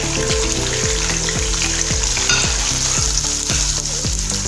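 Finely chopped medium onion fries on full flame for chicken karahi, giving a loud, continuous sizzle close up, with rhythmic scraping strokes of stirring and no voices.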